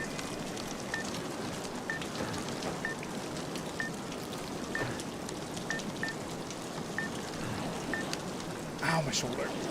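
A steady, broad roar of rushing water from a nearby waterfall in The Long Dark, heard up close and continuous, with faint regular beeps and a brief thud near the end.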